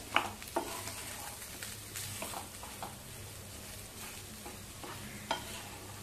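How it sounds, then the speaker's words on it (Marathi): Potato being stirred and fried in spices with a spatula, with a soft continuous sizzle under scattered scraping and tapping strokes, quiet and close. "आता मसाल्यामध्ये सगळा बटाटा चांगला परतवून घेऊया."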